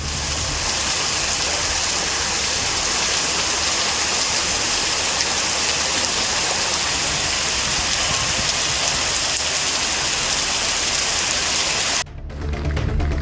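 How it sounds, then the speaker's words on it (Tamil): Moderate rain falls steadily in Rasipuram, Namakkal district, a dense, even hiss of drops on surfaces that continues for over twelve seconds before cutting off abruptly near the end. "மிதமான மழை பெய்தது"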